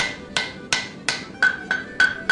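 Hammer blows forge welding a Viking axe heated to white-yellow, seven sharp ringing strikes at a steady, slightly quickening rhythm, close and loud with metallic ring between hits.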